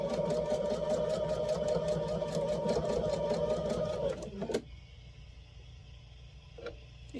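Sewing machine running steadily while stitching a quilt block for a designer mystery block-of-the-month quilt, a continuous loud mechanical whir with rapid ticking that stops abruptly midway, leaving quiet room tone and faint clicks.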